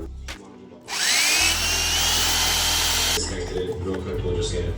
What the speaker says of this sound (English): I'm gonna pre-drill through one of these holes.